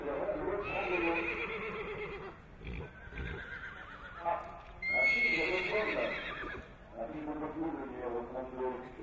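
Horse neighing and whinnying at a racehorse sale lot, several loud whinnies over steady crowd chatter and hoof clip-clop.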